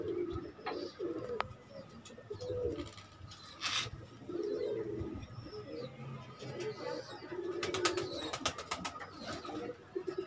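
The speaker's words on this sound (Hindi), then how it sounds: "ये कबूतर हमारे वापसी कर रहे हैं" Pigeons, including Kaldumi and Nafti birds, returning from a long competition flight, with soft repeated cooing and occasional wing flutters and chirps close by, quiet outdoor background, no talk.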